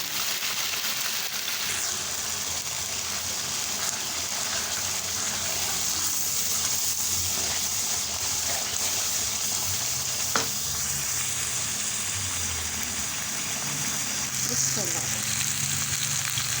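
Spices for a tadka sizzle and crackle steadily in hot oil in a pan while cooking chicken heart and liver with potatoes, with an occasional clink of stirring, close up and continuous.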